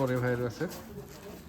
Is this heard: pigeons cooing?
yes